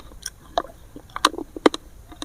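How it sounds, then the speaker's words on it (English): Small berries are chewed up close, whole with their seeds, in a series of crisp bites and wet crunches with an irregular rhythm, and no talking over them. "I'm chewing."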